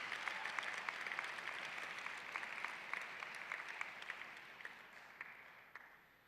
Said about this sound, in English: A round of applause for all of our all-conference nominees and honorees.